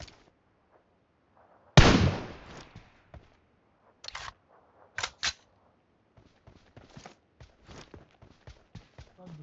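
Gunfire in the mobile battle royale game PUBG Mobile, on the Livik map, comes as one sharp loud shot followed by scattered shorter cracks and faint clicks over near silence.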